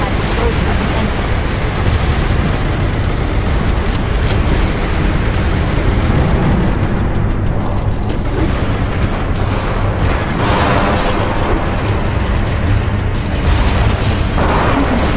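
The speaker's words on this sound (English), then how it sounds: "That should be enough to trigger a wildcat explosion at the entrance." Sustained explosions from fusion reactors going up in the Halo SPV3 mod of the shooter game, a dense, loud rumbling barrage of booms and bursts running throughout with no letup.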